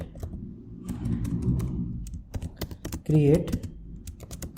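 Typing on a computer keyboard while writing SQL code, a quick uneven patter of clicks close by with someone speaking Hindi over part of it.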